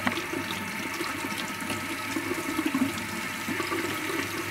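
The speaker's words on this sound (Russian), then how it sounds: "движениями я листочки промываю, чтобы смыть с них всю пыль, грязь и так далее." Water runs steadily while plant leaves are rinsed to wash off dust and dirt, a continuous close splashing flow with no talk.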